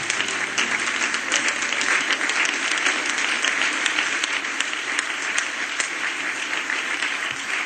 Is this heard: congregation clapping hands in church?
yes